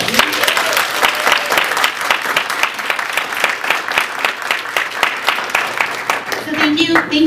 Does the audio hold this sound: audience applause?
yes